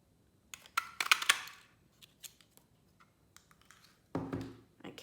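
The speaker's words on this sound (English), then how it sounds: "bring our punch back and cut that one out" A handheld craft punch snips a stamped paper tulip from card. A quick cluster of crisp clicks and snaps is followed by scattered light taps and a final rustling crunch, all close and quiet, with no talking.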